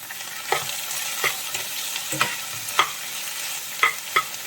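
Ivy gourd stir fry is stirred in a pan while it sizzles, with a continuous frying hiss broken by regular scraping strokes of the spatula every half second or so, close and clear, with no talk.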